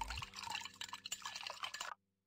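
Coffee being brewed from coffee beans and water in the city-building game Settlement Survival: a short burst of gurgling, dripping liquid that stops abruptly into silence.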